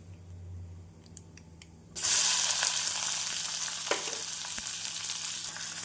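Sudden loud sizzling as chopped onions, green chilies and garlic hit hot oil, then a steady crackling fry continues, close up with no talking.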